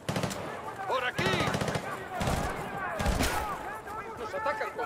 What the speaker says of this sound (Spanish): ¡Nos atacan con fuego de arma!